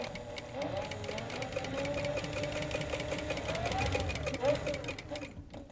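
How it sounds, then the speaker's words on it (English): A sewing machine stitches steadily around the edges of a leather flower inlay, its rapid mechanical whir running continuously at moderate volume for several seconds before stopping near the end. "when we move back to the sewing machine, I'm going to go around the edges"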